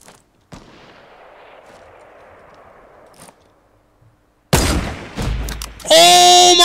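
Sniper gunfire in the video game Fortnite: a sharp shot cracks early, followed by a faint one, then a sudden loud burst of firing, and a player shouts excitedly at the end.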